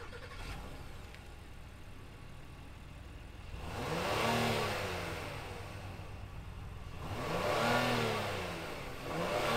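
A 2022 Acura MDX A-Spec with a naturally aspirated V6 gives two rising revs from a low idle, each swelling and falling back, heard fairly quietly and alone.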